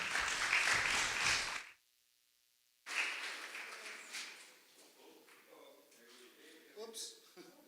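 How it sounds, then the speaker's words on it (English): An audience at a church event claps loudly, then breaks off abruptly; the applause resumes more softly and fades under someone speaking. "A big round of applause"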